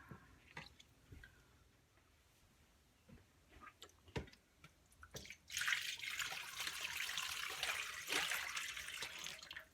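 Dye liquid pours into a pan for fabric dyeing, a few scattered drips and clinks, then a sustained, soft splashing pour that continues to the end, faint and close.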